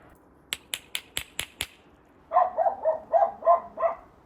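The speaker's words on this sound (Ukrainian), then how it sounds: "бо не буде чути, звідки пси гавкають" Dogs bark in the distance on a village evening during a Christmas Eve tradition, a run of about six even barks following a few sharp snap-like clicks.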